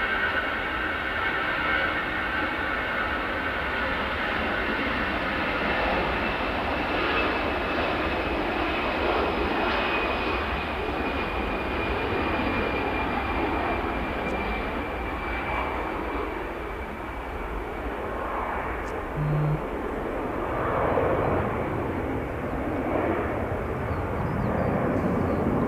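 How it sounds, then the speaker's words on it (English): A jet airliner taxis at Manchester Airport, its engines giving a steady, sustained roar with a broad rumble and a faint high whine, fairly close and continuous throughout with no speech. "Just taxiing down. They will be heading off to Amsterdam momentarily."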